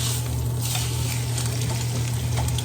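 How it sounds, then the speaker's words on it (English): A thick steak sears in a hot pan, giving a steady, dense sizzle that holds at an even loudness throughout, with no talking. "Get that seared up, nice."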